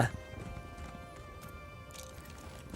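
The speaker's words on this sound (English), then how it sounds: "at least moving faster than sprinting on my horse" Galloping hooves of a horse being ridden in The Elder Scrolls Online, with a steady clip-clop rhythm and faint game ambience behind it and a light whinny, heard without talking.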